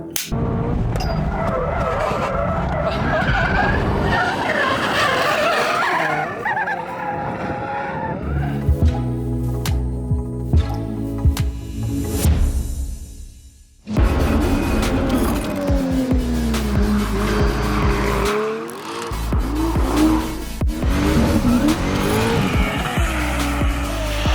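A car drifts around the Streets of Willow track with loud, sustained tire squeal and skidding over a roaring, revving engine, close and continuous, briefly dropping away before surging back.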